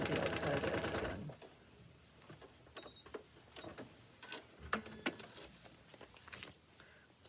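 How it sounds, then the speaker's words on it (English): Sewing machine stitching a paper-pieced heart seam through paper and fabric, starting with a dense, steady whir for about a second, then fading to soft clicks, taps and handling noises of the fabric and paper. "I'm going to sew from the outside all the way through the number 11 seam line, all the way through to the outside edge again."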